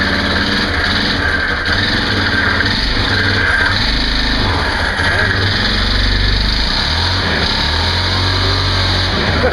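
A Yamaha Kodiak ATV engine with a suspect clutch runs continuously at close range, a loud steady buzzing drone that rises and falls slightly, with people talking faintly underneath.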